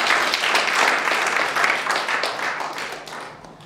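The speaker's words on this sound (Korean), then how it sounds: "오늘 이 귀한 시간을 여러분 큰 박수로 시작하도록 하겠습니다" An audience at a justice forum and lecture gives a broad, continuous round of applause, a dense wash of clapping that holds steady and then thins out toward the end.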